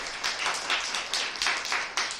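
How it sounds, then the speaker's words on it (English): Audience at a poetry slam clapping in a dense, continuous round of applause, steady and fairly loud with small swells throughout. "And another round of applause for Shelby for growth."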